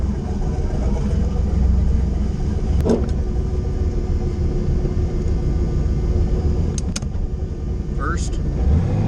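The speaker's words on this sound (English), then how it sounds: "There's reverse. It backs up." Car with a freshly rebuilt Th400 automatic transmission backs up in reverse, a steady low engine rumble close by with a few brief knocks and clicks, and a person talking over it.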